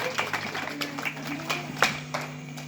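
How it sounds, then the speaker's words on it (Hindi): An audience applauding children at a religious discourse, a scattered, fairly soft patter of clapping under talk and background noise. "ताली बजाओ इन बच्चों के नाम"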